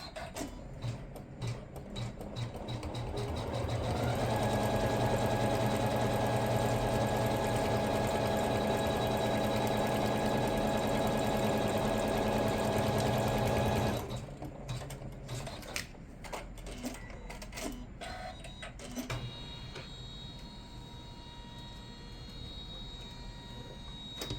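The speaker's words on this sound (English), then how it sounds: "The next stitch is going to tack down that lining piece." An embroidery machine stitches down a bag lining piece held in the hoop. Its steady, loud mechanical whir builds after a ticking start, runs continuously, then breaks into slower ticking and clicks.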